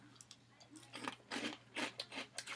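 Crunchy Cheetos cheese snacks chewed close to the microphone: a quick series of loud, crisp crunches in an uneven rhythm, with no talking.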